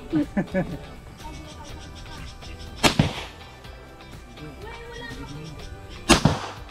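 Pistol gunshots at an outdoor target shooting range, a Tanfoglio or Glock 17 Gen4 being fired: two sharp loud reports spaced a few seconds apart, with quieter clicks and handling noise and people talking between them.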